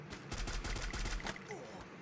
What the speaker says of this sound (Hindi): मैंने सोचा फायर देता भी हूँ उसको डराने के लिए